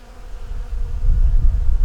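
Honey bees buzz loud and close during a hive check after a storm, a continuous droning hum that swells toward the end.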